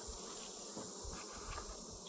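Dense, steady buzzing of many honeybees swarming close around an opened beehive as a frame is pulled free, a continuous droning hum with no pauses.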